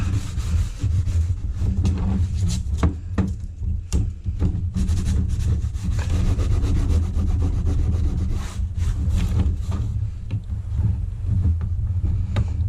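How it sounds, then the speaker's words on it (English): A cooler is scrubbed with a dry Scotch-Brite pad, giving a steady, close, coarse rubbing sound like sandpaper, with repeated strokes running unbroken throughout with no talking. "give it a clean up with a bit of a dry Scotch-Brite, so it's like a sandpaper, just get it all off"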